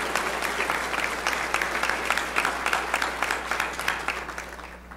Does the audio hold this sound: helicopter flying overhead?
no